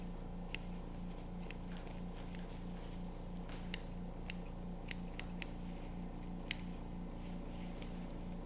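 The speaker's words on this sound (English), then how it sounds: "We can take our scissors and trim off some of this hard to flesh off tendons and" Small scissors snip tendons and ligaments from a wood duck skin during taxidermy fleshing, giving a scattered series of sharp, quiet clicks over a steady low hum with no talking.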